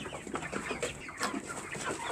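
Broiler chickens about 57 days old cluck and murmur in a coop, with many overlapping soft calls throughout and no talk.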